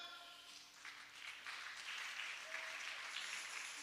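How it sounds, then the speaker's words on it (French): A gathered audience applauds in a steady wash of clapping that builds slightly and holds for several seconds, heard at a moderate distance and fairly soft. "On acclame."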